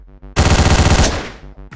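Rapid automatic assault rifle fire from the top-down video game Hotline Miami, a loud burst of about a dozen evenly spaced shots lasting roughly a second, preceded and followed by quieter game sounds.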